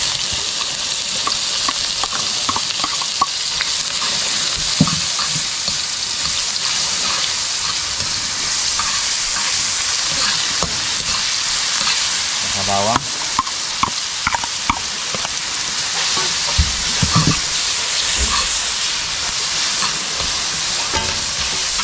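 Onions go into shellfish sautéing in a pan, with a loud, steady sizzle and occasional stirring clatters and scrapes, and no talk.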